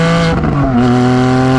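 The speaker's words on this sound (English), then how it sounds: "This one actually has a secondary cat delete, so it sounds a bit louder than stock." Porsche Cayman GT4 from 2020 with its secondary catalytic converter deleted, its engine droning loud and steady with a deep, even note that shifts pitch slightly partway through, heard close and alone with no talk.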